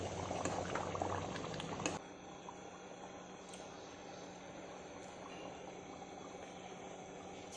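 Mutton achar, a spicy meat pickle, boils in a pan with a steady, dense bubbling and sizzle, louder for the first couple of seconds and then settling into a softer, even simmer.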